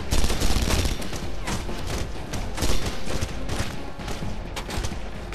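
Sustained, loud gunfire rattles throughout a Red Faction Guerrilla battle, heavy repeated shots and booming impacts layered densely with no pauses, sniper shots among the barrage.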